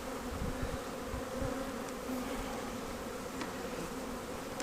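Honey bees buzzing at an opened weak hive during supering in Tiffin, Ohio, a dense continuous drone up close, steady and fairly loud throughout with a few brief sharper sounds on top, and no talking.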